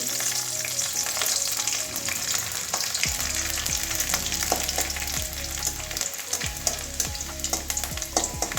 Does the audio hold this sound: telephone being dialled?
no